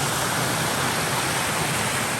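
Loud, steady roar of water pouring over a dam, a dense continuous rush with no pauses.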